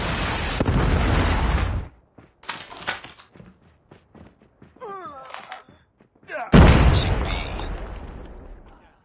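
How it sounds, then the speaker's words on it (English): Predator missile strikes in Call of Duty Mobile ranked play, two loud booming blasts at the start and again later, with game voice callouts and scattered gunfire in between. "Predator missile inbound."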